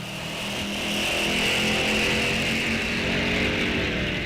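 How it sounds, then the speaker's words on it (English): Drag race cars at a Sunoco Race Fuels ET Series event rev up and launch, a loud engine roar that swells after the first second and holds strong as they pull away. "RPMs come up and off they go."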